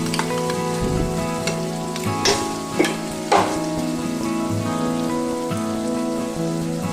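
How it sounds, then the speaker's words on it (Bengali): Ground bottle gourd leaves fry with deeply browned onions, a close steady sizzle broken by several louder bursts as the paste is stirred in, with no voices. "এখানে আমাদের পেঁয়াজটা একদম লাল লাল করে সাঁতলে নেওয়া কমপ্লিট। এবার আমি এর মধ্যে বেটে রাখা লাউ পাতাটা দিয়ে দিচ্ছি।"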